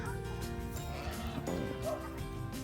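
Young fighting cocks on a farm make faint clucks and scattered calls at a distance, mixed with low background hum and a little indistinct movement.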